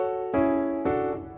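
Two quantized piano chords in a beat, each struck cleanly with every note landing at once, ringing and sustaining briefly, played alone with no talking.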